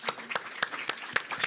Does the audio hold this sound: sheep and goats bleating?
no